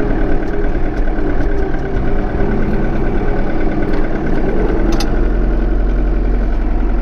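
A farm tractor hitched to a manure spreader idles nearby, its engine giving off a steady, loud, low mechanical rumble and vibration with no change in pace.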